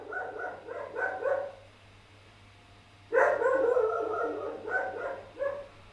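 A dog barks and howls in a rural Georgia setting, a few clusters of moderately close yelping calls with a quiet gap between bursts, over a steady low background hum.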